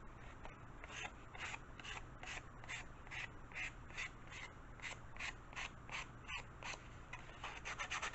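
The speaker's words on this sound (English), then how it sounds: "Let's go ahead and sand these wings a little bit." Sandpaper rubbing in quick, steady strokes along the leading edge of a model airplane wing as it is beveled, a close, faint scratchy rasp repeating at an even rhythm with no talking.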